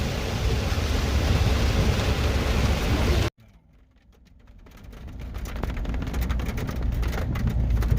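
Heavy rain pours steadily in Cades Cove, Tennessee, during a rainstorm, loud and broadband, then cuts out abruptly and returns as a rising wash of rainfall with scattered drops and faint distant rumble.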